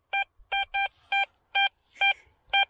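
A metal detector reading 87 gives a signal during a hunt for Roman finds: seven short, loud, evenly pitched electronic beeps in a quick, slightly irregular rhythm, heard alone and close.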